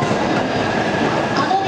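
A Japanese commuter train runs on the Joban Line, giving a steady, close rolling rumble with a constant rail hiss and a faint high squeal near the end.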